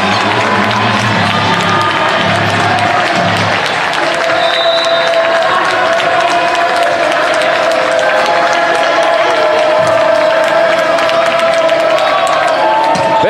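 Crowd cheering and applauding at match point of a 2019 men's college volleyball game, North Greenville vs. Mount Olive; a loud, dense roar fills the gym steadily throughout, with scattered claps and shouts.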